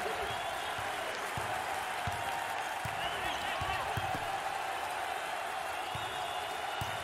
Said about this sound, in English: the home fans are going crazy